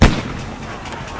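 A single sharp gunshot fired as a race starting shot, loud and close, with a brief booming decay and no voices.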